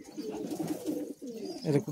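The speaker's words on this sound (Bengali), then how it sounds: "এটা বন্ধুর পায়রা" A high flying Madrasi pigeon coos in soft, repeated throaty phrases at close range in a loft, with little else around it.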